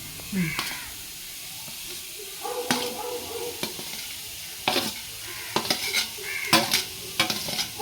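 Grated coconut and cumin toasting in a pan for a bitter gourd theeyal, heard as a soft, steady sizzle broken by repeated scraping stirs of a spatula at close range, some louder than others.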